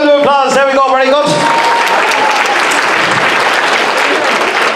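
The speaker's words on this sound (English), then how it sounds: "Give her a big round of applause." An audience at a school transition-year variety show breaks into loud, sustained applause right after a voice speaks, the clapping filling the rest of the moment evenly.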